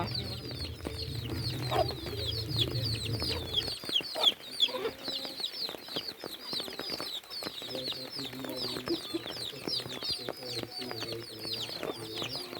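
Chickens cluck and squawk close by in a farmyard after rain, with other birds chirping, a low engine-like hum in the first few seconds, and occasional wing flaps and bumps.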